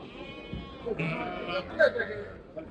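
Sheep and lambs of mixed ages bleat at a busy Shymkent livestock market, several wavering calls rising over a low crowd murmur, with voices talking in the background.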